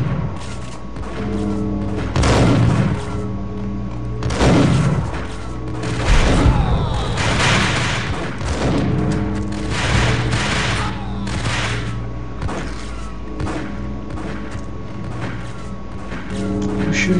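Gunfire and heavy impacts in the mobile video game Max Payne Mobile, with loud repeated shots and booming hits every second or two over a steady low game hum.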